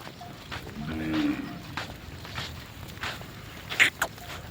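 Kankrej cows arrive on a rural path near a river in Kutch, letting out a low moo close by, with shuffling hooves and a couple of sharp knocks toward the end.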